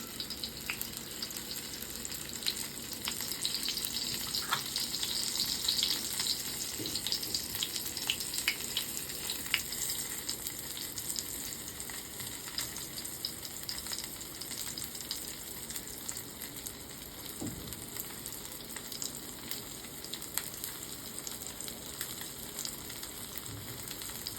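Halwa fish shallow-frying in oil in a pan, Konkani style, giving a continuous gentle sizzle and crackle with occasional faint clinks, steady and without voices throughout.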